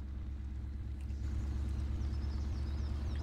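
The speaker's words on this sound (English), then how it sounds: "I can still hear the engine a little bit," Truck engine and exhaust in the video game Farming Simulator 19, a steady low rumbling drone that swells slightly partway through and continues evenly as the truck drives.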